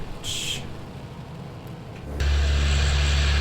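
Another aircraft's engine in Microsoft Flight Simulator: a faint hiss and brief tone, then a loud, steady low engine drone that kicks in suddenly and holds to the end.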